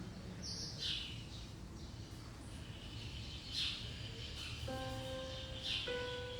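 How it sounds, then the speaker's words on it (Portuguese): Small birds chirp outdoors during a morning live stream, with several short, faint tweets scattered through quiet ambient noise and a soft tonal sound toward the end. "tá dando pra ouvir os passarinhos?"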